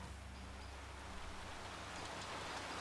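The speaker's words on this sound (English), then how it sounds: "Find yourself in a downpour. Seek shelter." Steady, dense hiss of heavy rain falling without a break in the video game The Flame in the Flood, a constant wash of noise with a low rumble beneath, no voices.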